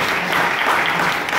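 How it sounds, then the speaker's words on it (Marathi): An audience at a book launch at a literary gathering in Nigdi applauds with steady, continuous clapping that fills the hall. "पुण्यश्लोक अहिल्यादेवीसाठी टाळ्यांचा कडकडाट झाला"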